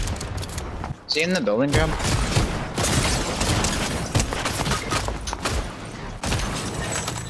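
Rapid assault rifle fire in Fortnite Chapter 5 Season 3, loud close bursts and sustained volleys with thumps and a brief explosion, running continuously while players talk over it.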